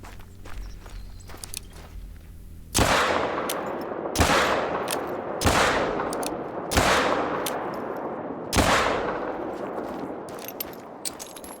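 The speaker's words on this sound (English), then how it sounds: "We may want to go ahead and thin this herd out with our pistol" Five pistol shots fired at a pronghorn herd in the hunting game theHunter: Call of the Wild, sharp loud cracks spaced about one to two seconds apart, each trailing a long ringing decay outdoors, with no talk.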